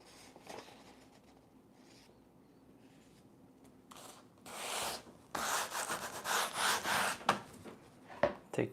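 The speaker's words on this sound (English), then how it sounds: "I'm just going to scrape in a little bit of texture there" Palette knife scraping texture into a linocut block for reductive printing: quiet rubbing at first, then louder bursts of rasping scrapes in the latter half, close and alone.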